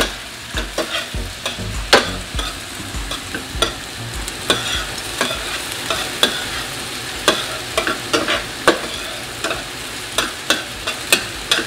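Bell peppers frying in a pan, a steady sizzle punctuated by regular clattering stirs and scrapes of a utensil against the pan, close and loud with no voices.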